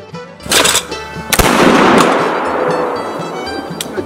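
A flintlock muzzle-loading shotgun loaded with an ounce and a half of number 7.5 shot fires at a winter shoot, a loud sharp blast followed by a second report and a long rolling echo.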